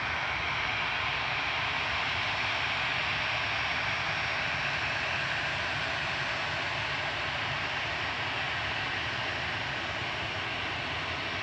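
Jet airliner engines at Manchester Airport drone in a steady, loud broadband roar as an aircraft pushes back and taxis, unchanging for the whole stretch with no voices.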